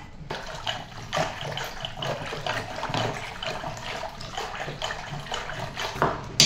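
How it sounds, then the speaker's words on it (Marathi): Water pours into curd in a vessel to make buttermilk, a gurgling, splashy run of liquid with uneven surges, close and moderately quiet, no speech. "ह्यात पाणी घालते आणि ताक बनवते पहिला"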